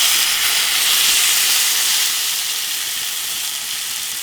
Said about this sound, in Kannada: ಈಗ ಈ ಮಿಲೆಟ್ಸನ್ನು ಒಗ್ಗರಣೆಗೆ ಹಾಕ್ಕೋಬೇಕು.